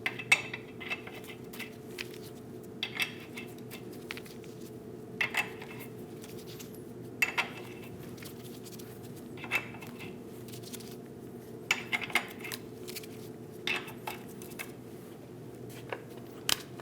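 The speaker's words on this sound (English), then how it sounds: "Install all the lug nuts." Lug nuts go back onto a wheel of a 2001-2006 Chevrolet Silverado, making scattered, light metallic clinks and rattles spaced over several seconds against a low, steady background hum.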